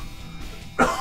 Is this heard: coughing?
yes